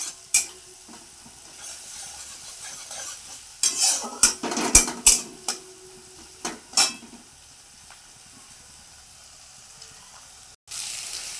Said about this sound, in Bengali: দেখো আদা কুচিয়ে দিয়ে দিয়েছি, এবার একটু লাল লাল করে ভাজবো